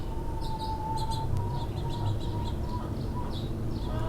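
A house finch gives short, high chirps in an outdoor backyard setting. A thin steady tone and a low background hum run beneath the calls, and no one speaks.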